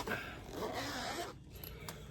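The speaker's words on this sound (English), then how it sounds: "It's an actual gold zipper tab and a gold zipper" A gold zipper on a VaultX binder is pulled in one quiet, close rasping run lasting about a second, followed by soft handling noise.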